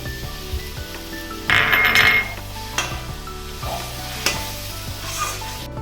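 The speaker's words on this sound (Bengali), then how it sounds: "কাঁচা লঙ্কা ধনেপাতা দিয়ে ভালো করে মিশিয়ে" Eggplant chicken fries in a pan while a utensil stirs it with green chili and coriander, bringing a steady loud sizzle, repeated scraping and clinking strokes, and one brief louder burst of frying.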